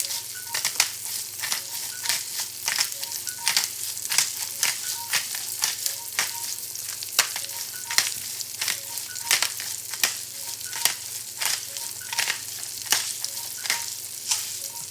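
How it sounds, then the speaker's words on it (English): Oyster mushrooms with cracked pepper sizzle steadily in a pan, with sharp rhythmic scraping and tapping as they are stirred, close and moderately quiet, with no voices. "Now I'm going to throw in some cracked pepper."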